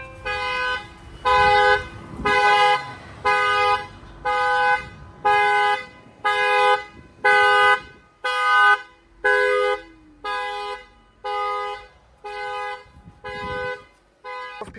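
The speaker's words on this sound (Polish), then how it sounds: "I trąbi cały czas samochód" Car horn of a Porsche Panamera honking in a steady series of about fourteen loud, evenly spaced blasts, sounding on its own while the car is locked out of gear by an anti-theft immobiliser.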